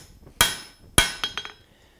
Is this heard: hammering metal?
yes